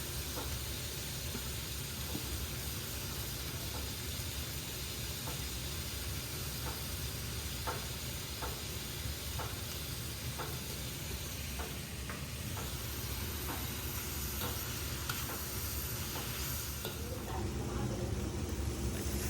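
Onions and green chillies fry in a pan with salt added, giving a steady, dense sizzle and hiss throughout with faint scattered crackles and stirring clicks, no talking over it.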